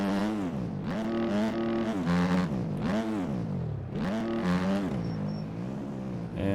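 A dirt bike engine in the MX Bikes motocross game revs steadily, rising and falling through several gear changes with a buzzy, continuous drone and no talk.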